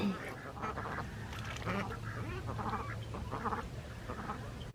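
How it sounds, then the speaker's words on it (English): Mallard and runner ducks at a pond quacking repeatedly in overlapping bursts, fairly faint outdoors, with a voice briefly audible among them. "I've got two different types of ducks. I have mallards, and then I have the runner ducks."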